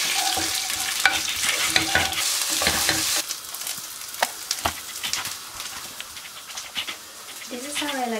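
Rice stirred in a hot pan, with a steady sizzle and scraping spoon strokes that are loud at first, then quieter. Brief speech and other voices occur in the background.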